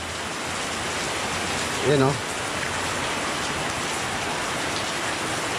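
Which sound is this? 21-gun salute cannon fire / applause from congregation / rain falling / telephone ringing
rain falling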